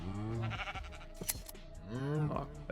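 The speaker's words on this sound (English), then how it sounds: "Sheep, where are you?" Sheep bleating in the modded Minecraft pack Nomifactory, several wavering bleats at moderate loudness mixed with a player talking over the game sounds.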